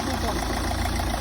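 Car engine idling after being restarted following an antifreeze refill, a steady low rumble with a faint regular pulsing, moderately quiet and brief.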